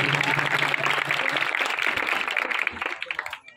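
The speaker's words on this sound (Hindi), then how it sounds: "जिंदा खुदा के लिए जोरदार तालियां बजाएं" Loud, dense applause fills a church service, sustained clapping from a congregation with voices mixed in, tapering off near the end.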